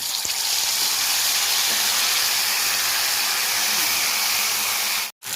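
Cumin paste, white cumin seeds and a bay leaf sizzling in hot mustard oil for a village koi fish dish: a steady, loud, broadband frying hiss throughout, breaking off briefly near the end.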